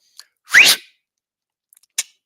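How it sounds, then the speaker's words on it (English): A person whistles for a dog: a single short, sharp rising whistle, close and loud, followed by a brief quieter chirp after a pause. "I got to whistle at my dog"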